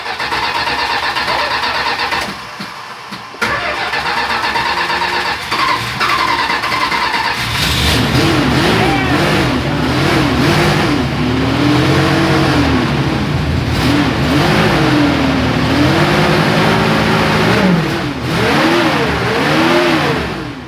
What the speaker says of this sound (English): Cold start of a 1970 Plymouth. Plymouth Valiant, yep.